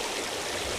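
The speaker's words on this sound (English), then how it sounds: "This running water will probably push up a bunch of bait, get those fish feeding" River water runs steadily on the Devils River, a close, continuous rushing hiss with no voices over it.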